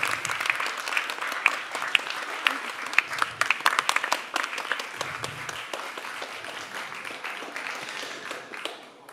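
Audience applause at an awards gala in the Stary Maneż hall in Gdańsk, a dense burst of clapping that starts strong, peaks in the middle with a few sharper claps, then gradually fades toward the end.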